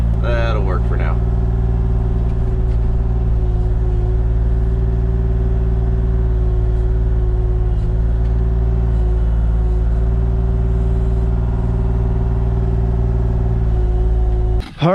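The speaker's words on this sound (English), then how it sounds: "We gotta put our blade around the stake here. I don't feel like turning the whole machine around." A heavy earth-moving machine with a blade runs steadily while trenching on a ranch, its loud low diesel drone and deep harmonic rumble continuous and close throughout, with brief voices at the start.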